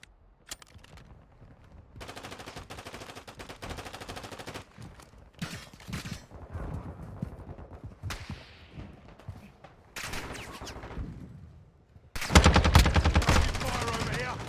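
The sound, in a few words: gunfire in Call of Duty video game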